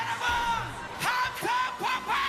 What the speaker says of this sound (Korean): 함성 폭발!